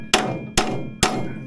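Three sharp hammer blows, about half a second apart, strike a stuck part on a vintage Polaris Gemini single-cylinder snowmobile racer engine during teardown. Each hit is close and loud with a ringing decay and no talk.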